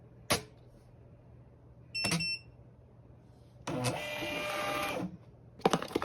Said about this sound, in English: this button will pick up what label you're using, and you should hear a beep